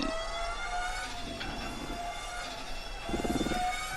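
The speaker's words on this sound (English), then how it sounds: "you can hear the transmission whine, and that's about it, guys" High, steady electric transmission whine from a CUPRA e-Racer electric race car at Portimao in the RaceRoom Racing Experience video game, tonal and sustained with slight pitch shifts over low rumbling bursts.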